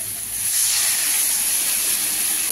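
Gravy poured into a hot pan of crab curry gives a loud, steady steam hiss that rises quickly and holds unbroken, with no voices.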